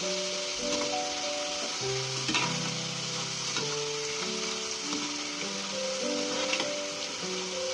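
Water chestnut flour mathri sizzling steadily in a small amount of hot oil over a medium flame, a continuous close crackle with soft music playing in the background.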